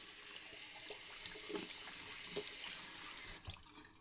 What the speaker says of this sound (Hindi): टैप ऑन किया और अपने फेस पर ठंडे पानी के छींटे मारने लगी।